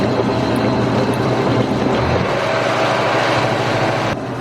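A superyacht tender's outboard engine running loud and steady at raised revs while being flushed with fresh water through a hose, a constant close drone with a slight pitch shift near the end.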